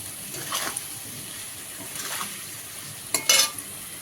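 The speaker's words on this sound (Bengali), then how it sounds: "আলুগুলো লাল লাল করে ভাজা হয়ে গেছে" Potatoes fry quietly in a pan with a soft, steady sizzle, broken by a few short scraping stirs, the loudest near the end.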